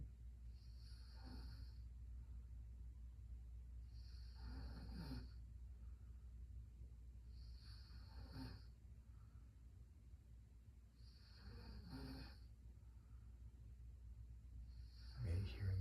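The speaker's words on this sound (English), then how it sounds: "My wife snoring, providing a good example of breathing through the nose." A woman snores steadily while breathing through her nose, giving about five slow, evenly spaced rasping breaths over a constant low hum. Each breath is quiet and close.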